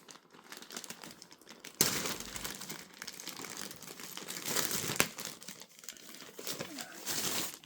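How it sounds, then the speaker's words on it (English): Cardboard and plastic packaging of a Xiaomi Wireless Car Washer 2 is torn open by hand, with a sharp rip starting around two seconds in followed by continuous crinkling and crumpling, close and fairly loud, with no talk. "I think I'm just gonna tear it from here."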